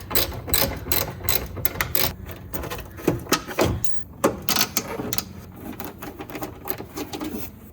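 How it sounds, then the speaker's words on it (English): A hand ratchet with an extension and adapter working on bumper bolts of a 991.1 Porsche 911 Carrera, rapid clicking pawl bursts in quick uneven runs, close and dense, with no voice. "I have a regular size ratchet and an extension and an adapter"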